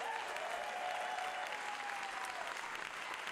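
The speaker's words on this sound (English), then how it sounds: "Can we get a round of applause for all the speakers tonight?" An audience at a PechaKucha Night event in a public library applauds the evening's speakers, a dense, steady wash of clapping at close-to-moderate distance that holds for the whole stretch, with a faint tone running beneath it.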